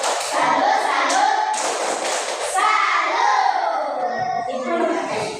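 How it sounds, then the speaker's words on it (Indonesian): Classroom of children doing a rhythmic 'tepuk salut' clap together, claps mixed with their chanting voices, steady and close throughout. "Kita tepuk salut untuk kelompok 1."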